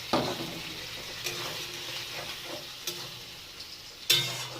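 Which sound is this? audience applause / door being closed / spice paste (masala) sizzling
spice paste (masala) sizzling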